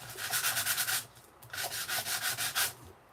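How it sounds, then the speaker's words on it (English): Sandpaper rubbed lightly over raised, embossed card stock, a close dry scratchy rasp in two bursts of quick back-and-forth strokes separated by a short pause. "you can take some sandpaper and just sand lightly"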